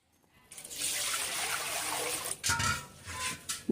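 Water is poured in a steady, rushing stream over strained sorghum bran, followed by a few uneven splashes and gurgles as the pouring falters.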